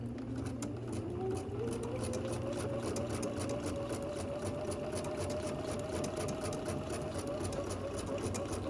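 A sewing machine stitches a 9 mm wide serpentine stitch with long stitch length on fabric treated with Terial Magic and no stabilizer, a steady, continuous mechanical whir with a rising motor pitch that holds throughout, close and alone.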